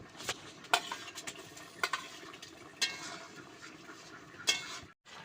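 Rohu fish cooking with cauliflower and potato curry in a pan, with a low simmering sizzle under repeated spoon clinks and scrapes against the pan, close and moderately quiet.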